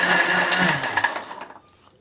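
A blender whirs loudly through protein pancake batter, a steady motor drone that winds down and fades out near the end, with no talking.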